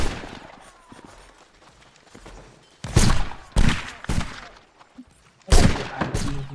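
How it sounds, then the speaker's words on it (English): Gunfire rattles through a shooting video game in several loud bursts spaced a second or two apart, each volley sharp and dense, with quieter gaps between. "Let's keep shooting."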